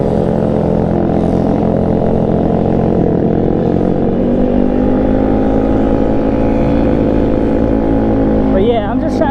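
Tao Tao 140cc Chinese dirt pit bikes ridden in a group, their small engines droning steadily and loud, with a rider talking over the buzz.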